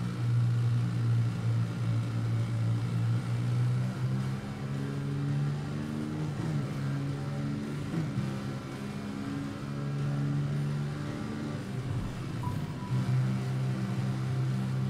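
A Hero rally motorcycle engine in the Dakar video game drones and revs continuously, its pitch rising and falling as the throttle changes, loud and steady throughout.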